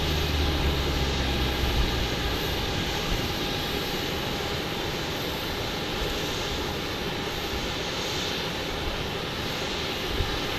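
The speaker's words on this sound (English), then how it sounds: "this is flight, I think, Southwest 1938 that was intended to land in Phoenix from St. Louis, but is diverting here for what we call a gas and go" Southwest Airlines jet airliner, flight from St. Louis diverting to Tucson instead of Phoenix, roars steadily and loudly with a sustained engine drone throughout, heard alone without voices.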